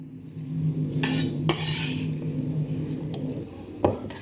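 Chopped courgette pieces dropped into a bowl give a few close, bright clatters and knocks, one sharp hit early and another near the end, over a low background hum.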